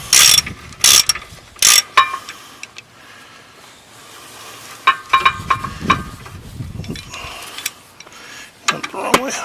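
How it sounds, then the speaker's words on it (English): Ratchet wrench tightening 18 mm rear brake bolts on a 2001 Ford Excursion, loud close bursts of rapid clicking in short strokes separated by pauses, with clanks and faint shop noise between. "Now when you tighten these, be careful not to tighten them like Superman or Hercules"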